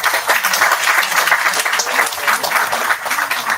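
Sustained audience applause at an international college conference in Vijayawada, dense continuous clapping from a large room, steady and fairly loud with no talk over it.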